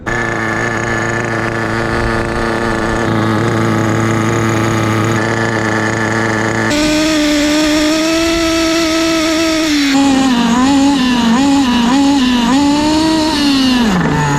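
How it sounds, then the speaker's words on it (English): An HPI WR8 Nitro RC car's small nitro engine runs loud and close, holding a buzzing, tonal drone that shifts pitch in steps and wavers as it revs up and down. "This is the brand new HPI WR8 Nitro."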